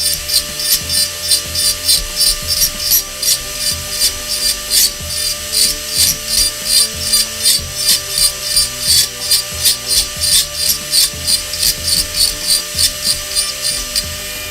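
A high-speed rotary tool carves wood with a gritty, grinding whir, repeated in short pulsing strokes at a quick, regular rhythm over a steady motor hum, loud and close without talking.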